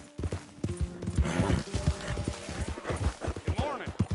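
Horse hooves clip-clop in a steady rhythm in Red Dead Redemption 2, close and clear, with a voice talking over the gait and the occasional soft snort.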